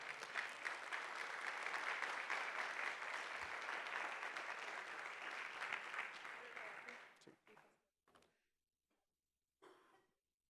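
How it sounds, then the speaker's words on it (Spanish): A church congregation gives a loud, sustained round of applause to the Lord for about seven seconds, then it thins out into a few scattered claps and falls silent. "¿Cuántos podemos dar un fuerte aplauso al Señor por haber sido perdonados?"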